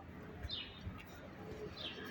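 Faint bird chirps and cooing drift in from a distance over a soft, steady outdoor background hiss.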